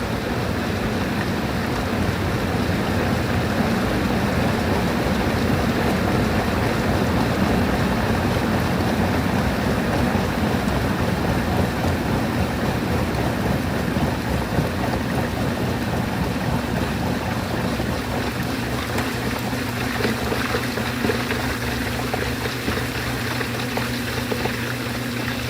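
A washing machine drains water before its spin cycle, a steady loud rushing, gurgling wash of water that continues throughout with a low hum underneath and no speech.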